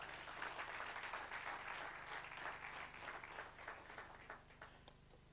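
Sustained audience applause at a speaking event, a dense even wash of many hands clapping for about five seconds, fairly steady then tapering slightly near the end.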